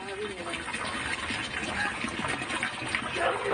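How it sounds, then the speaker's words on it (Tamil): Sewage-tainted water runs steadily from a tap in a residential area, a continuous splashing gush heard close while someone talks over it. "இந்த மாதிரி தான் வருது காவா தண்ணி தான் வருது"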